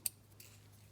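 A single sharp snip from the small scissors of a Leatherman Surge multi-tool, close and crisp, followed by a faint second click over a steady low hum.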